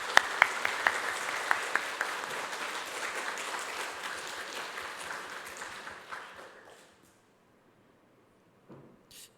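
A church congregation applauding during a Sunday worship service, a broad steady clapping that fades out over several seconds into near silence, followed by a faint brief knock.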